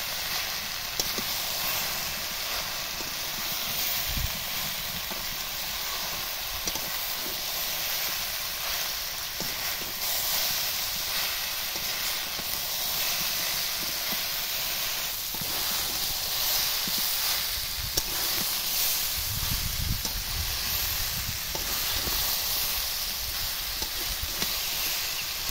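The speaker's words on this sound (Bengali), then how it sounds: "এবার দেবো ভেজে রাখা আলুগুলো, দিয়ে আবারও ভালো করে কষিয়ে নেব।" Jackfruit curry with fried potatoes sautéing in a pan, a steady soft sizzle and hiss running throughout with occasional stirring scrapes, fairly close, no talk.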